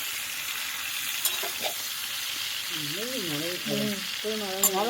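Raw green mango pickle cooking with sugar in a covered pan is uncovered and stirred, giving a steady close sizzle with soft scraping, and a voice speaks over the last seconds.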